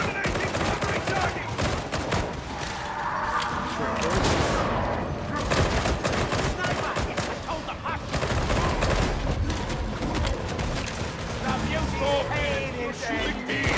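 Rapid gunfire in Warhammer 40,000: Darktide, dense and continuous combat shots and impacts layered under excited talking throughout.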